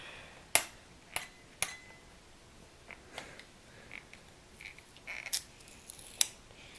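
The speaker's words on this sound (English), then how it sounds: "So what you want to do is just peel that off." A warranty sticker being peeled off an Xbox 360 controller, heard as a series of sharp, close ticks and small tearing snaps spaced irregularly over a quiet background.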